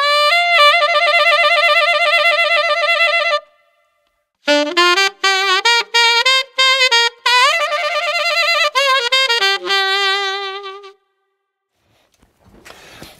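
A reedy woodwind holds a long bright note on front E, then breaks into a rapid wavering trill between two close pitches, played solo and close.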